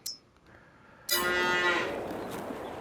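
A dairy cow in the video game Farming Simulator 22 gives a single long, loud moo after a moment of near silence, close and clear with no talking.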